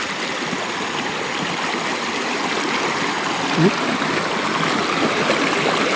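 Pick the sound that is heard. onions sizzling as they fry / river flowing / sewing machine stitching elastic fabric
river flowing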